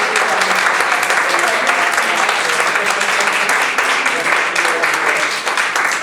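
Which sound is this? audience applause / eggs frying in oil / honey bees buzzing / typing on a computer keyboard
audience applause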